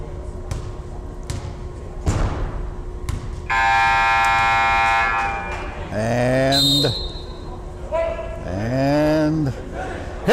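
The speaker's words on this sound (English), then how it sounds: "They'll have to come up with the next buzzer." Long, loud electronic buzzer at a varsity boys high school basketball game sounds for about two seconds in a gym, with crowd noise and cheering around it and shouts rising afterward.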